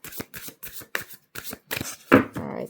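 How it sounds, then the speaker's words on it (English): Tarot cards being shuffled by hand in a series of quick riffling bursts, close and crisp, with brief gaps between them and a softer rustle at the end. "All right, we'll shuffle one more time here."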